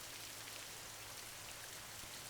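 Steady rain falls outside a house, a dense, even hiss of drops on surfaces that continues unbroken throughout, soft and uniform with no voices.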